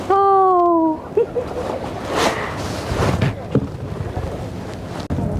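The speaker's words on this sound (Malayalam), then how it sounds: "അഷ്ടമുടി കായലിലേക്ക് കയറിയപ്പോഴുണ്ടല്ലോ നല്ല തണുത്ത കാറ്റായി." Cold wind sweeps across Ashtamudi Lake near Munroe Island in Kollam during a boat ride, a steady broadband rush buffeting the microphone after a short tonal sound at the start.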